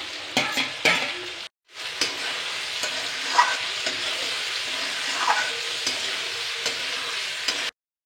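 Fried potatoes being stirred in a hot pan for chowmein, a steady close sizzle with repeated scraping stir strokes and a brief pause partway through.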